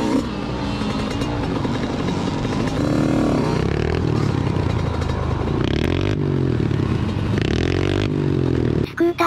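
A TM Racing 100MX mini dirt bike tackles a hard enduro off-road event. Its small two-stroke-style engine revs close and loud, rising and falling continuously, with scrapes and clatter from the rough terrain.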